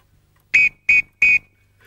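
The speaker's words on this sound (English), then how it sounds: "And just look at that lovely whistle." Three sharp, shrill whistle peeps, evenly spaced and loud and close, against near silence, with a faint sound starting just after.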